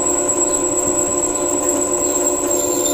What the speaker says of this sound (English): I'm at 520 RPMs in this little drill press.